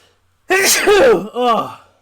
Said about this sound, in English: it sneezed into my shirt